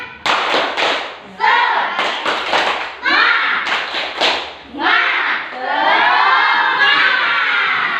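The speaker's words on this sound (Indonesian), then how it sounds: "Kita tepuk semangat dulu." Sixth-grade elementary schoolchildren in a classroom perform a rhythmic spirit clap, loud bursts of unison clapping and thumping mixed with shouted chanting voices in a patterned cadence, ending in a sustained group shout.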